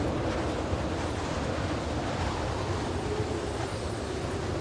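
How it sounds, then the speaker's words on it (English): Strong Arctic wind blowing steadily and loudly throughout, a continuous broad roar with gusty buffeting and no voices. "When we finish, the sky darkens and the wind rises."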